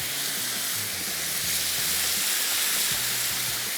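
Chicken 65 masala frying in a pan, a dense, loud continuous sizzle and hiss with a low rhythmic bubbling beneath, no one speaking.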